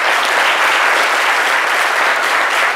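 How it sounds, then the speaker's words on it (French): A studio audience on a French-language midday TV show applauds loudly and steadily, a dense, even wash of clapping with no voices. "avec les applaudissements du public"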